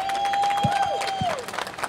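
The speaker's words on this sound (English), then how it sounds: "Can we have a round of applause for Miss Kimmy?" A crowd at an outdoor political rally outside the Justice Department applauds and cheers briefly, with a sustained tone and whistles cutting through the clapping.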